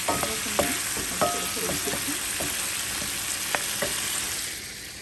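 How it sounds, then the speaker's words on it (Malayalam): A mustard seed tempering sizzles and crackles after being stirred into a mutton curry with coconut milk gravy, a steady close frying hiss with small pops and a few stirring knocks that fade near the end. "ഈ കടുക് വറുത്ത പാത്രത്തിലിട്ട് നമ്മളിങ്ങനെ ഗ്രേവി ഒഴിച്ചെടുക്കുന്നുണ്ട്."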